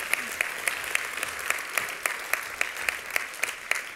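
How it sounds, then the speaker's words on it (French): Steady applause from an audience, with crisp individual claps standing out over a dense wash of clapping. "On les applaudit."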